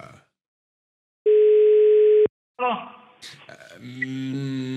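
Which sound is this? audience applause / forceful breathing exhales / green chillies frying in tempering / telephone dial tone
telephone dial tone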